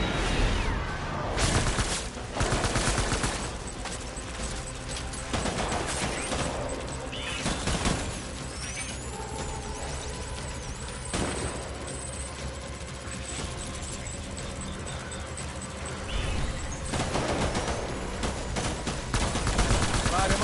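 Repeated bursts of gunfire in the Death Stranding video game, loud volleys several seconds apart between stretches of busy combat noise, with speech heard in places.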